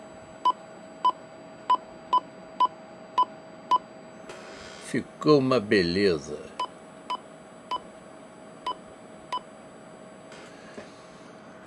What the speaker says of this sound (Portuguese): E ó, olha o bipzinho.